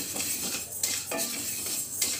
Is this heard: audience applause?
no